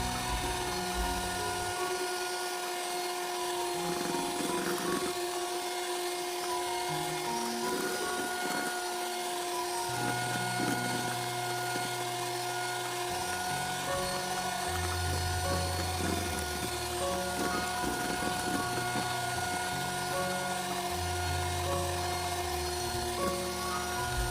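A Philips HR1552 hand mixer with turbo speeds beats batter for a tiramisu steamed sponge cake, a steady close motor whir with shifting tone and occasional rattles of beaters against the bowl, running throughout without speech.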